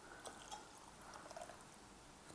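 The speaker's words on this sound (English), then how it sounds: "Now adding my soda water." Soda water is poured into a jar of egg and oil for a fish batter, a faint, soft trickling with light fizzing spatter, quiet and close, ending with a small knock.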